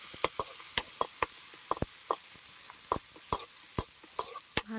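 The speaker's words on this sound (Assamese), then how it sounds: "দি দিম কাটি থোৱা পিঁয়াজখিনি, লাৰিম অলপ, লাৰি পেলাই অলপ ৰঙা হ'বলৈ দিম" Chopped onions fry in a pan and are stirred with a utensil, sharp irregular clicks and scrapes of the spoon against metal tapping out over a faint, steady sizzle, close and fairly quiet.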